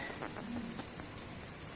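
Monsoon rain falls steadily in a Himalayan hill setting, a soft, even hiss of drops with faint patters throughout, fairly quiet and with no voices.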